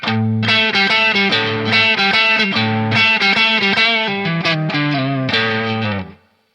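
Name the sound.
electric guitar through overdrive pedal, Tubescreamer mode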